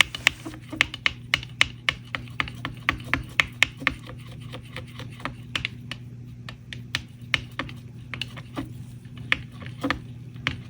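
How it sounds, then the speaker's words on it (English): Glycerin mixture for a resin snow globe is stirred in a container, producing a quick, irregular series of close clicks and scrapes over a low steady hum. "I'm going to stir it again to get it mixed really nicely"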